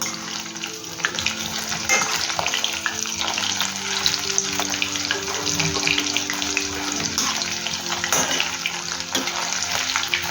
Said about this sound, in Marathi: ते असेच आता मी सगळे तळून घेणार आहे.